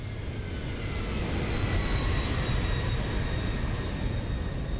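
Boeing 737 in a flight simulator game dropping from the sky, a steady, loud engine and wind roar with faint high whine tones, continuous with no talking.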